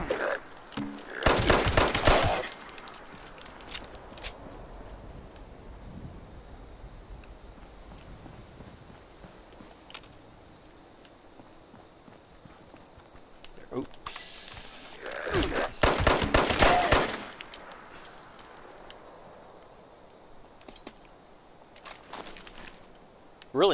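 Gunfire in the post-apocalyptic game Fallout 76, two loud clusters of rapid automatic shots seconds apart, with quiet footsteps and faint ambience between the bursts.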